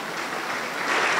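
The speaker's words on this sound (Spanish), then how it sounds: "aplauso para el Señor Jesús" A church congregation at a Pentecostal service claps steadily, a dense, even wash of applause that swells slightly toward the end.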